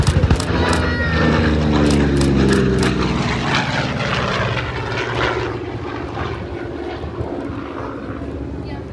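A WW2 Corsair fighter plane dives past at an air show, its propeller engine roaring loud and close with a falling pitch as it sweeps by, then fading into a steady distant drone.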